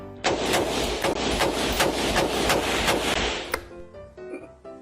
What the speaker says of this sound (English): This is what an AR-15 sounds like.